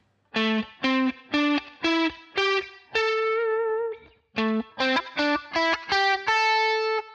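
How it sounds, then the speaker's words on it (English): Distorted electric guitar plays a minor pentatonic scale as single notes, climbing then descending, each note picked cleanly and sustained briefly. "instead of playing the minor pentatonic scale like this"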